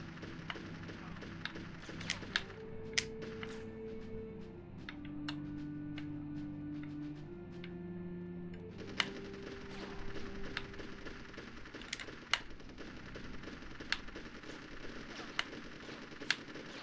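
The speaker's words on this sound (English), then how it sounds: "Hear more gunfire." Sporadic sharp gunshots in the N64 video game Army Men: Sarge's Heroes crack out at irregular intervals over a steady electronic background with sustained tones, moderately faint.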